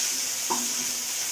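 Fish frying in a pan, a steady soft hiss of hot oil heard up close with one brief clink partway through and no talking.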